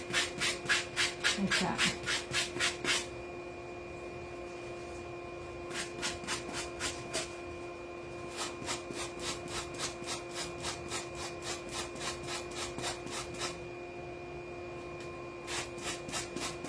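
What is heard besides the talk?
sanding block sanding the edge of wood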